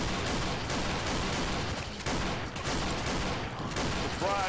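Dense, continuous gunfire from the video game Left 4 Dead, loud and relentless throughout with rapid overlapping shots and no pauses.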